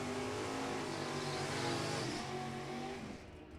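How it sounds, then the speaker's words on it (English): A drag racing car's engine at an NHRA event, heard from a distance as a steady throttle roar that fades slightly toward the end. "Listen to the throttle work down there."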